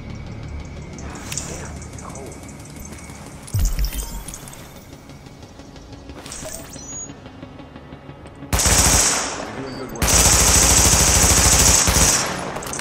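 Gunfire in The Division, with bursts of automatic fire amid combat noise, a sharp blast near the middle and two sustained, loud volleys toward the end.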